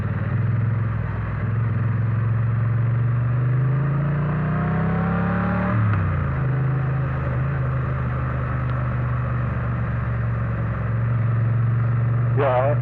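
A Triumph Bonneville T100 motorcycle engine drones steadily on a road test ride, low and continuous with a brief rise and dip in revs midway, heard close from the rider's position amid wind noise.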